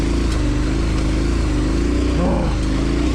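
Motorcycle engine ridden with the clutch slipped, giving a close, continuous mid-pitched drone whose tone wavers and dips slightly as engine speed shifts.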